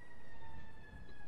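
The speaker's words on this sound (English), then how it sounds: "I hear sirens" Far-off emergency sirens in GTA 5, a faint, drawn-out wail sitting steadily over a dense hiss of background noise, with no talking.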